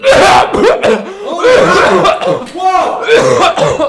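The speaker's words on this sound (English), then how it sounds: "you just coughed up your lung" Loud, close coughing fits mixed with laughter-like voiced sounds, repeating in rough bursts throughout.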